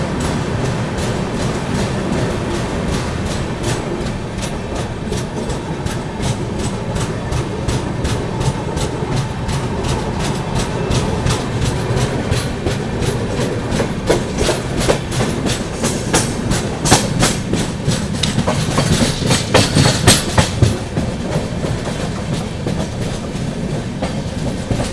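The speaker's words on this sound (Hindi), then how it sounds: "चलिए निकल गई अपनी पाटलिपुत्र सुपरफास्ट एक्सप्रेस दोस्तों कसारा रेलवे स्टेशन से।" The 12141 Patliputra Superfast Express pulls out of Kasara railway station on its journey from Mumbai, heard from inside a 2AC coach: a steady, loud rumble with continuous clickety-clack of wheels on rail joints, without talk.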